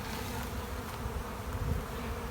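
Honey bees fill an opened brood chamber with a soft, even buzzing drone, close and continuous, without speech.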